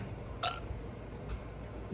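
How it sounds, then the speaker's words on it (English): Several short burps from people in a room, scattered irregularly across the moment, moderately close, with a low background hum and no clear talk. "We got a bunch of burping going on in here."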